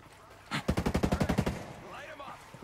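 A rapid automatic burst of about a dozen evenly spaced gunshots in the shooter video game Ghost Recon Breakpoint, loud and close, followed by a faint voice in the background.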